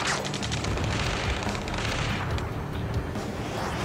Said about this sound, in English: Return fire! Sierra 2, hold position! We're cut off! Taking fire!